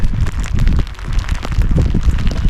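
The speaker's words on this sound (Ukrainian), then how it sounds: "пішов дощик." Heavy rain with wind falls during sea fishing off Norway, a dense, loud, continuous patter and splash close by throughout, with no talking.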